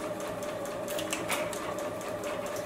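A JUKI sewing machine stitches a beverage coaster seam with a steady, close, even whir that runs on throughout without pause.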